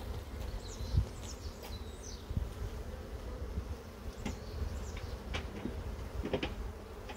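Honeybees buzz around a hive in the sun, a continuous swarm hum with individual bees droning past close by and faint rustling beneath.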